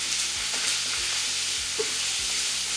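Meat frying in hot oil for a Half Moon recipe gives a loud, steady, continuous sizzle with occasional small pops and a faint low hum beneath it.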